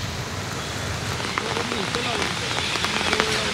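Heavy monsoon rain pours down in Pune, a dense steady hiss of drops striking surfaces with scattered sharper splashes, loud and close throughout.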